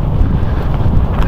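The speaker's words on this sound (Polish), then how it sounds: "ale jednak ten wiaterek potrafi skwierać" Cold wind buffeting a microphone outdoors on a chilly day of wildlife photography, a steady, loud low rumble of gusts with no voices.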